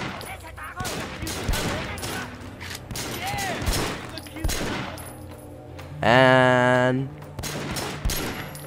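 Gunfire in the video game Sleeping Dogs: rapid bursts of automatic shots and single cracks through the scene, loud and close, with a tonal game effect midway and someone talking excitedly over the action.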